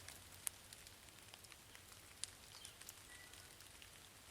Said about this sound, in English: It's just barely starting to drizzle right now.